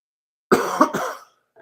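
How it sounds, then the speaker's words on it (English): A person coughs in a quick burst of three harsh, close coughs, then falls silent apart from a faint trailing sound. "Excuse me again for my cough"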